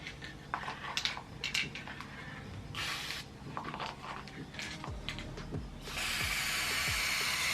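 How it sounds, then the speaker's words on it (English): Black gloss lacquer sprayed from a can into a cup: short rattling and handling clicks first, then bursts of steady close hissing spray, the longest at the end. "I take some of the same black gloss lacquer that I've been using on this guitar and spray it into a cup."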